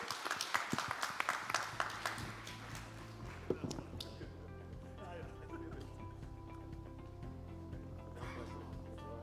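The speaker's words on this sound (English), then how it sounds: "So another round of applause." Audience applause ringing out at the close of a panel discussion at a summit, a dense wash of clapping that is loudest at the start and then settles into a steady, sustained patter, with some talk mixed in.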